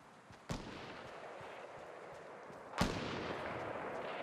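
Two sharp gunshots in a video game, well apart and fairly faint, each with a short decaying tail over a low background hum.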